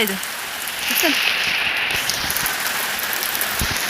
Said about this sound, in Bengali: দেখেন কত বৃষ্টি হইতেছে